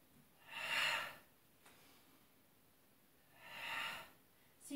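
Two soft, breathy inhalations taken during a Pilates exercise with a Swiss ball, each lasting about a second, spaced roughly three seconds apart, quiet and close with no talking.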